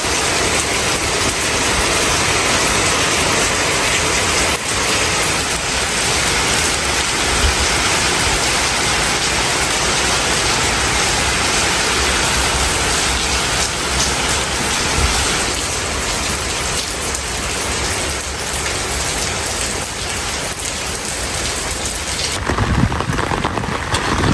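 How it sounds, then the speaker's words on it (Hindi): Heavy rain pours down at a farmhouse in Pune, a dense, loud, unbroken hiss of drops with rumbles of thunder and wind mixed in, close and continuous with no voices. "बारिश हो गई, बहुत ज़्यादा तेज़ हो गई।"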